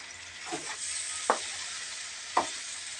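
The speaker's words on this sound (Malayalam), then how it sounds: "ഇരുമ്പാമ്പുളി എണ്ണയിലിട്ടിട്ടൊന്ന് വാടണം." Bilimbi fruit for pickle softening in hot oil, a continuous close sizzle with two or three distinct scraping stirs of a spoon against the pan.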